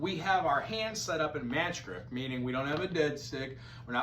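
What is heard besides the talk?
None of the usual background noises is heard.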